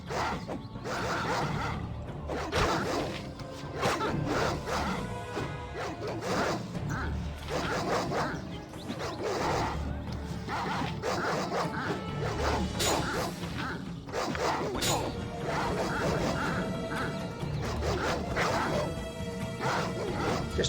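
Wild dogs bark and yip repeatedly in the Baldur's Gate video game, mixed into dense combat sounds and music.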